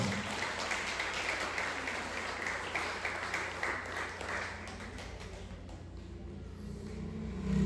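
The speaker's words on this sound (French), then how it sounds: "Acclamez parole ça" Church congregation applauding together during a sermon at a Baptist church revival, a steady, fairly faint wash of clapping that holds throughout and thins toward the end.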